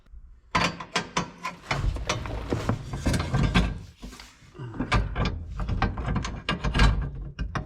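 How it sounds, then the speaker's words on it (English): Metallic clicks, ratcheting and clanks of a 9/16 wrench working on the pedal linkage of a 1959 Chevrolet Apache truck, a steady run of close, sharp mechanical taps with brief pauses. "9/16 wrench, maybe?"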